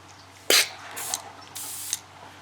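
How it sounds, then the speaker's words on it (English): Three hissing bursts of air spray from an airbrush with its compressor set around 20 psi, in quick succession, each a steady whoosh lasting under half a second, close and fairly loud. "Here's my airbrush, the compressor, and turn it on, and you'll probably hear this in the background"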